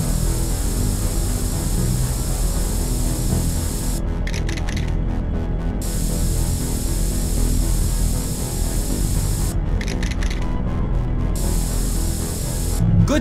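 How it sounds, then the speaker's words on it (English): A spray paint can hissing in the video game The Warriors, a long continuous loud spray with brief pauses, close and steady, with no talk over it. "Good thing I brought some extra spray."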